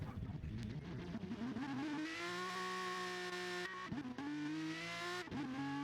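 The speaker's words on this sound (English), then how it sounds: "That's the engine sounds." An Aston Martin DBR9 race car engine in the video game GT Sport, at Laguna Seca, whines and climbs through the gears, with sharp drops at each shift and steady high-pitched revving.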